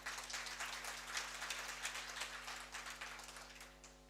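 An audience at a nursing conference clapping for nurses, a steady dense patter of many hands that fades slightly at the end over a constant electrical hum.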